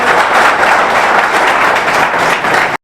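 An audience at a Government ITI event in Bankura applauding, a dense, loud, continuous wash of clapping from many hands that cuts off abruptly at the end.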